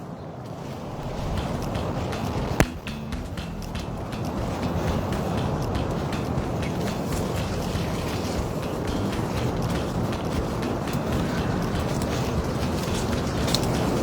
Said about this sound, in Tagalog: naririnig ko na yung tunog ng dagat